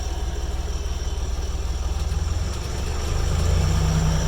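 A tractor diesel engine idles with the PTO engaged, a close, low throbbing rumble with a steady pulse. Near the end it rises slightly in level and pitch. No one speaks.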